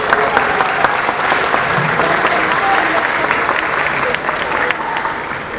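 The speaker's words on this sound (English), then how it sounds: "I think our amazing performers need another round of applause." Sustained applause from a concert audience at a school concert, dense and steady throughout, loud and full with no break, a crowd clapping together for the performers.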